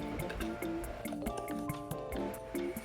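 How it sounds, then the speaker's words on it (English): A liquid mixture of vanilla and farm-fresh eggs goes into the dry ingredients for double chocolate chip cookies, giving soft wet drips and squishy splats close by, over steady background music. "Now it is time to add the liquid mixture to the dry."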